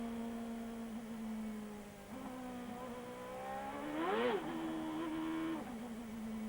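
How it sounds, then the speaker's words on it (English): An IndyCar race car from the 1999 season revs and spins its rear wheels as it accelerates, a rising engine whine that swells mid-clip over steady background engine drone, with no talk. "You could hear Jimmy Vasser just spinning the rear wheels on his car"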